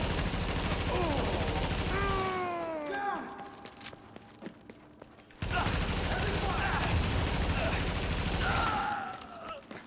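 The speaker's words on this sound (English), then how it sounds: "Shotgun just next to my face." Shotgun blasts in a video game fire close by amid dense combat noise, then drop away to near quiet before the racket returns, with a voice speaking faintly underneath.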